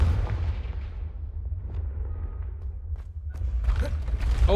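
A Confringo spell blast in Hogwarts Legacy, a deep booming explosion with heavy low rumble that builds and rolls over several seconds, with sharper bursts near the end.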